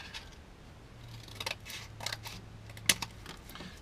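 Cardboard being roughly cut for a seat-mount template for a 1975 VW Rabbit, soft scissor-like snips and rustles, faint and close, with one sharper crisp snip standing out near the end.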